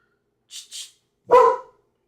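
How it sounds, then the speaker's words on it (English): A pet dog in a home barks: two quick yips followed by a single louder bark, close by, with silence around them. "If my dog starts acting up, I'm gonna have to just mute this for a second and get him settled."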